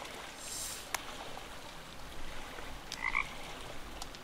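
Within the game Midnight Calling: Valeria, a frog gives a brief, faint croak or two over a soft, steady bed of trickling water and ambient hiss.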